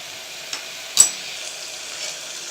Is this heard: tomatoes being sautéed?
yes